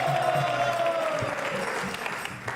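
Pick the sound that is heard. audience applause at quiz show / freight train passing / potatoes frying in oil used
audience applause at quiz show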